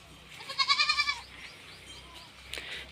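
Native village goats and young kids bleat in a quick run of several close, loud calls, followed by fainter bleats in the background of a rural setting.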